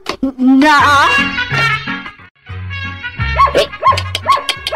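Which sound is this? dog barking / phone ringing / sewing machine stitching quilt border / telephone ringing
dog barking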